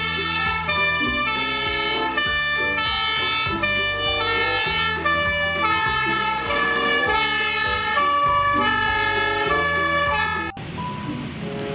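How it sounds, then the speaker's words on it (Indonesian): A toy ladder fire engine plays a loud, steady electronic siren and horn melody, repeating tones that run continuously before cutting off near the end. "ini mobil pemadam kebakaran tangga teman-teman"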